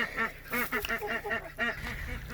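Ducks at a new backyard duck coop quack in rapid, overlapping bursts, several birds close by calling loudly and continuously.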